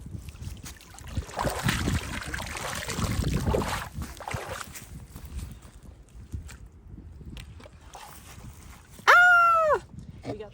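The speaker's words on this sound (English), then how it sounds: "I'm gonna just use this net and agitate in this area" A net swished through leaves and shallow water along a lake shoreline near cattails, making soft rustling and sloshing splashes for several seconds, then quieter handling noises, with a brief high wavering tonal sound near the end.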